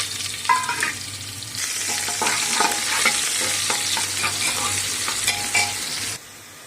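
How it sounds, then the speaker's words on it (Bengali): Cumin seeds and chopped onion hit hot oil for ghugni, bursting into a loud, close sizzle that holds steady with spoon scrapes and clinks, then cuts off abruptly at the end. "তেল গরম হয়ে গেছে, তবে এখানে গোটা জিরে দিয়ে দিচ্ছি, পেঁয়াজ কাটা দিয়ে দিচ্ছি"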